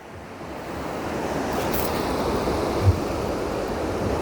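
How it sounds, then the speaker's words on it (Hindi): Fast river water in the Upper Neelum valley of Kashmir rushes past in a steady, loud, broadband roar with wind buffeting the microphone, continuous and unbroken, with no voices. "आपको मैं दिखाता हूँ कि दरिया का पानी गुज़र रहा है"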